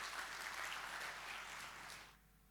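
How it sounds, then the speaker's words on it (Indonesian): Church congregation at an Indonesian Sunday service claps together in a sustained round of applause that fades and stops near the end, with no voices over it. "Tepuk tangan buat Tuhan"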